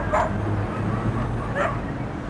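Several dogs at an animal shelter bark and yip in two short bursts over a steady low kennel hum, moderately near, with no talk over them.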